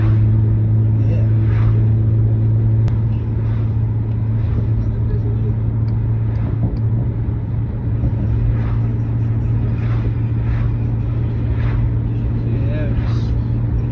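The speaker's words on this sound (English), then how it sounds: "Just engine braking down this hill with everybody right now." Steady low engine drone inside a 2006 BMW 330i with a six-speed manual, engine braking downhill in rush-hour traffic; the hum holds constant throughout with faint road noise and occasional passing vehicles.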